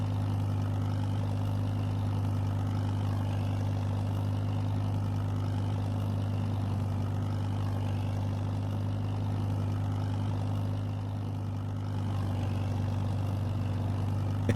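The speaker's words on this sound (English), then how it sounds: "a tractor like this is quite a fun thing to use" A tractor engine idles steadily in a farming video game, a constant low drone with a strong, even hum and no breaks or revs.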